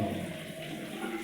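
Steady running water from a tap in a bathroom fitting with a jaquar one-piece toilet and shower, a continuous broadband rush with no speech.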